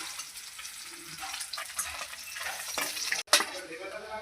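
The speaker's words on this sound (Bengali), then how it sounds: "দেখো মাছ উল্টালাম বন্ধুগণ, মাছ ভাজা হয়ে গেছে, মাছ তুলছি" Pieces of fish fry in hot oil with a quiet steady sizzle up close, interrupted by a sharp clatter and splash as a piece is flipped or lifted out of the pan.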